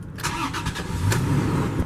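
A 2019 Toyota Tacoma TRD Off-Road with a six-speed manual cranks and fires up, settling into a steady, loud mid-pitched engine run close by, with a sharp mechanical click partway through.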